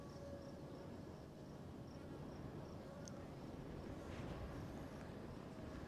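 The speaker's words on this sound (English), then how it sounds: "There's another bee." Bees buzz around hives beside a sunflower and cotton field, a faint continuous hum with a few brief passes close by, over a low steady rumble of outdoor background noise.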